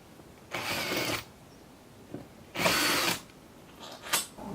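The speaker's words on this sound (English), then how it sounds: "Once you've drilled a hole" A power drill bores holes during a Hobie Wave Traveler installation, two clear whirring bursts of about half a second each plus a shorter one at the end, with quiet pauses and light clicks between.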